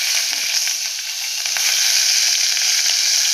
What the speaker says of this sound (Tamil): இப்போ எண்ணெய் நல்லா காஞ்சிச்சு ரெண்டு பட்டை ரெண்டு லவங்கம் கல்பாசி கொஞ்சங்க போட்டுக்கலாங்க